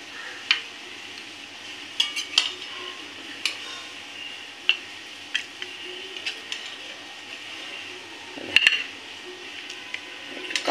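Curd rohu fish curry (doi rui) is served from a pan into a dish, with sparse metallic clinks and scrapes of a spoon against cookware over a quiet kitchen background.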